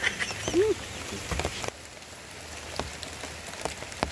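Rain patters steadily on surfaces outdoors, a dense close hiss with scattered drip taps, while a short duck-like quack sounds early on.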